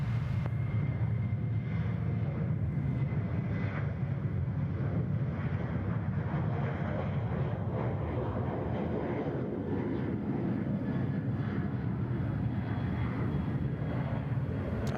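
An airliner departs Sydney Airport with a steady, broad engine roar heard from a distance, constant in level across the whole stretch with faint wind buffeting and no speech.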